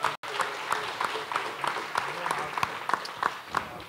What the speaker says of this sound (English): can I get another round of applause for Troy and Corey?